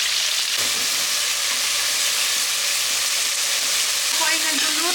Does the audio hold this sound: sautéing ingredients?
yes